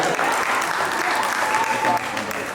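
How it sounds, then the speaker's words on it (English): Audience applause for a pair of socks, a steady dense wash of clapping from a crowd that holds at an even loud level throughout, with a voice faintly audible beneath it. "Let's give a big round of applause for these socks right here"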